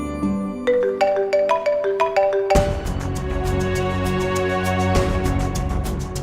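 A mobile phone ringtone plays loud and alone, first as a rising run of bright chiming notes, then as a fuller repeating melody with regular pulsing beats.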